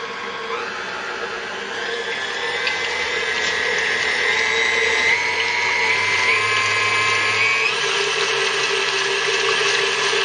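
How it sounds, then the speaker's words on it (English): An electric mixer whips cream in a bowl, its motor humming steadily and close with a whirring, slightly rising pitch as the speed is worked up, running alone without talk. "we've stopped the machine a little bit here just so that you can hear me talk"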